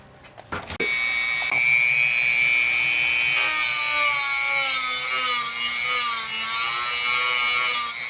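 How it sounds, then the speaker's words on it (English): A big hand file works down the edges of a DIY intake housing, giving a loud, steady rasping scrape that runs continuously for several seconds after a few brief knocks at the start. "You want to keep filing down the edges and then using this big file to get most of the material off."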